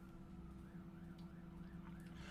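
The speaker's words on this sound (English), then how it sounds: "is that another siren?" Emergency vehicle siren outdoors, faint and distant, with a slow wailing rise and fall over a steady low background hum, no talking.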